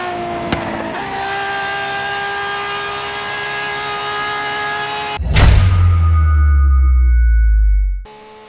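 A Ferrari LaFerrari in Forza Horizon 3 holds a steady, buzzy engine tone, then lets out a sudden loud burst and a deep roaring rumble before cutting off abruptly.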